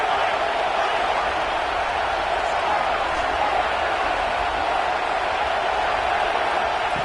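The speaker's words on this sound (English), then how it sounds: "It's early, but this crowd is fired up. Listen to this noise here." A stadium crowd roars in a college football video game, a dense, steady wall of cheering noise that holds at full volume throughout.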